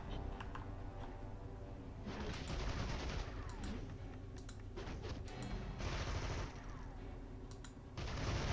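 Bursts of rapid gunfire in City of Heroes repeat in several short volleys over a steady background din, moderately distant and faint.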